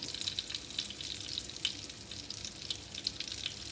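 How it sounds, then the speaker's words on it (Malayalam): Chili powder and garam masala sauté in a pan for biryani, giving a soft, steady sizzle with light crackles and occasional stirring scrapes. The sound is close and fairly quiet, with no talking. "ഗരം മസാല ഇനി കൂടിയിട്ട് നമ്മൾ പച്ചമണം മാറണ വരെ വഴറ്റി കൊടുക്കാം"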